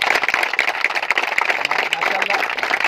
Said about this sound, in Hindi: जिन जवानों ने इस प्रोग्राम को मैनेज किया है उनके लिए एक बार जोरदार तालियां बजाओ